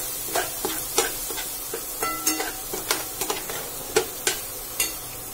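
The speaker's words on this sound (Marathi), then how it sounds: "त्याचप्रमाणे आपण त्याच्यात हळद टाकून घ्यायची आहे आणि हे सर्व छान तेलात फ्राय करून घ्यायचं" Spices and turmeric frying in hot oil, a low sizzle punctuated by repeated sharp crackles and spoon-stirring clicks at an irregular rhythm, close up.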